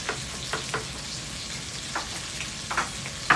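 Beef browning in a hot Swiss Diamond wok gives a steady, low sizzle and crackle throughout, with a few brighter pops and spatters standing out now and then. No one speaks over the frying.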